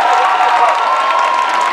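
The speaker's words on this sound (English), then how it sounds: "give a round of applause for Jason." Steady wash of crowd applause and cheering from an audience at a dating show, filling the whole moment with dense, even clapping and no pauses.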